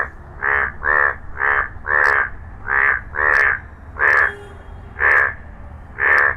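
Frogs croaking in a steady rhythm, about nine loud, close, raspy calls evenly spaced over a few seconds, with no voices over them.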